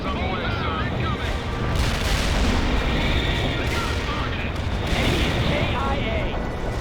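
Artillery barrage explosions in the 2007 strategy game World in Conflict, a sustained rumbling roar of overlapping booms with surges near two and five seconds, while radio-style voices speak over the battle.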